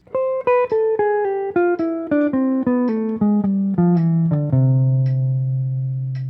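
A single guitar plays a descending eight-note major bebop scale, clean plucked notes in an even rhythm, ending on a sustained low note that rings out.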